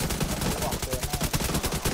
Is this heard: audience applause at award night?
no